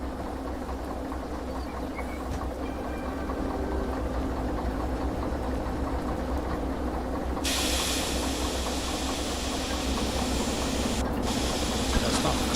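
A train's air brakes in a rail yard during shunting let out a loud, steady hiss partway through, with a brief break near the end, all over a constant low locomotive rumble.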